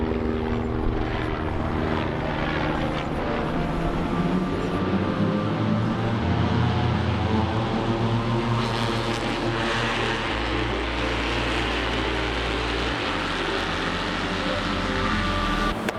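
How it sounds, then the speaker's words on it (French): Moto3 racing motorcycles at a MotoGP event pass by with a loud, continuous engine roar that swells and shifts in pitch over about sixteen seconds, dense and steady with no talk over it. "La moto 3 est partie, du coup vous venez de la voir passer"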